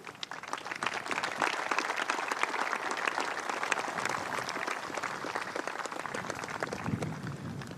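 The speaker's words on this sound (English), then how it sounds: "So an applause for yourself as well." Audience applause at a European club championship final, a dense crowd of hands clapping in a sustained, even roar that holds steady at a moderate level for the whole stretch, with no voices over it.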